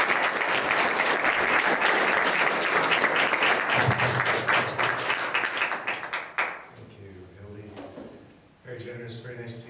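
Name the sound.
audience applause welcoming author David Bergen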